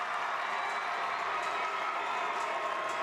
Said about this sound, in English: she's getting a healthy round of applause from the AFEC fans here in Cedar City